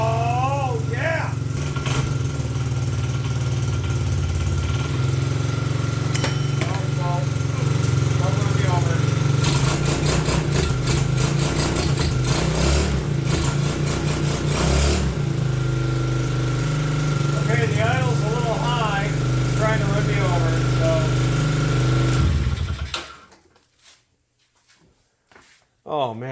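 The Pink Panther vehicle, left sitting for 17,379 hours, runs with a steady, rough low engine drone and a lighter rattling whine while voices talk over it, until the engine cuts out near the end and leaves near silence.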